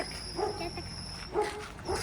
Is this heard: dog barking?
yes